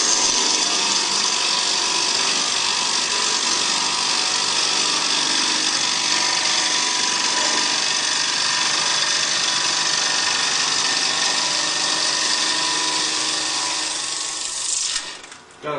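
A wood lathe makes a left hand cut: a loud, continuous, close rasping and whirring as the tool shaves the spinning wood. The sound is steady for about fifteen seconds, then cuts off abruptly.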